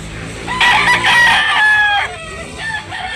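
A rooster crows loudly and close by at a rooster market in Tabunok, Talisay, Cebu, one long drawn-out call followed by shorter trailing notes.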